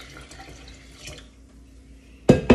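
Cooked vegetable broth poured from a pot through a strainer into a sink, a quiet trickle that builds into a sudden loud splashing gush near the end.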